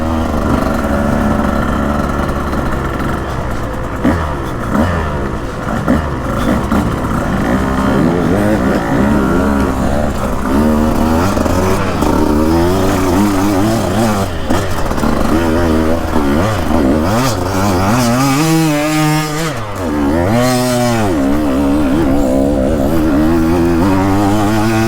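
A KTM EXC 150 two-stroke enduro motorcycle lapping a sprint track, its engine screaming continuously near and loud with rising and falling revs, sharp throttle blips and a brief dip around the end.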